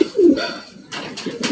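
Breeder pigeons coo close by, two or three short soft throaty calls in quick succession.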